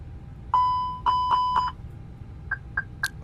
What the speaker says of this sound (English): Goes our alarm system